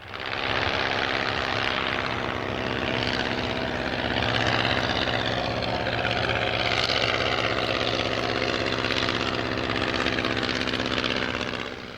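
A small airplane engine drones loudly at an airshow in Australia, a steady propeller buzz that rises and shifts slightly in pitch as the aircraft passes, continuous throughout.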